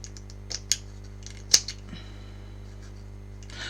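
A few quick snips from a wire cutter used to cut a length of wire while decorating a Christmas tree, sharp isolated clicks spaced apart in a quiet room.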